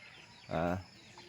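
A single short, throaty cluck from a chicken, faint and close, with quiet background around it.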